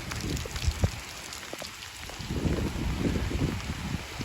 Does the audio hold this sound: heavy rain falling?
yes